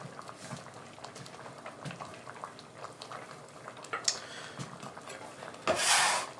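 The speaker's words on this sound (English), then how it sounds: "Turn that up, bring it back to the boil." Potatoes boil in a pot of water, giving a steady low bubbling simmer with scattered soft pops and a louder rush of bubbling near the end.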